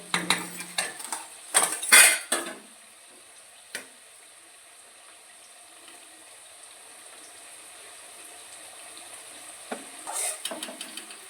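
Chopped tomatoes tipped into fried onions in a pan for prawn pulao, with a cluster of loud metallic clatters and scrapes early on, then a quieter stretch of low sizzling and a few more utensil knocks near the end.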